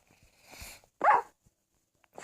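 A pet dog gives a short bark, with a softer yelp before it, in a quiet room; the sounds are isolated and fairly close.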